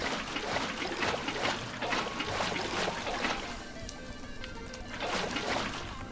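Water being poured and sloshing from a bucket in the video game Minecraft, a continuous splashing trickle that surges in several soft bursts over a few seconds.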